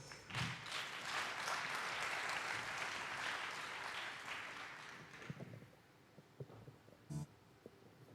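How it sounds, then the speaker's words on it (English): A conference audience at the Africa Blockchain Conference gives a panel a round of applause, sustained clapping that tapers off after about five seconds, followed by scattered thumps and taps. "A heartier round of applause."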